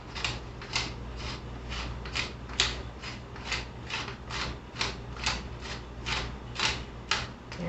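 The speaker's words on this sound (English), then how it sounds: "I'll go ahead and just give it a few turns on the grinder here" A pepper grinder is turned by hand, giving a close run of rhythmic grinding clicks, about a dozen evenly spaced crunches with no talk.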